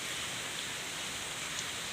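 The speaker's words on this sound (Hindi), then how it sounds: "रात से ही बारिश हो रहा है" Monsoon rain falls in Buxar district, a dense, even hiss of steady downpour close by that holds without a break, with no voices.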